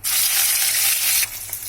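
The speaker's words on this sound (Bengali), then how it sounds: "আমি এখানে মাছগুলো এবারে ভেজে নিচ্ছি" Tangra fish coated in salt and turmeric frying in hot oil, a loud, steady sizzle that drops off sharply near the end to a quieter crackle.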